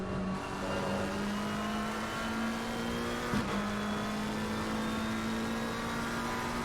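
Race car circuit racing at Silverstone, engine droning steadily at high revs with a rising pitch and a brief shift around the middle, loud and continuous with no talk.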